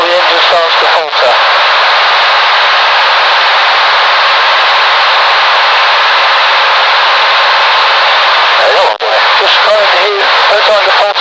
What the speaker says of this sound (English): You can come back quite a way before the engine starts to falter.